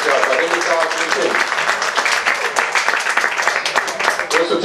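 A crowd applauds the two semifinalist teams of the national U17 football championship, Metaloglobus and Clinceni, with dense, continuous clapping and a voice speaking over it throughout.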